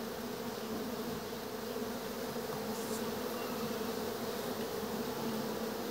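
Steady, dense buzzing of many honeybees at an open beehive, a continuous even drone with no talk, held at a constant level throughout.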